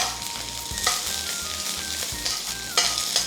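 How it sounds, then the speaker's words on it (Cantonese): Ginger and scallion stir-fry in an iron wok with a loud, dense, close sizzle, broken by a few sharp scraping strokes and clanks. No voices are heard. "爆香啲薑葱先。"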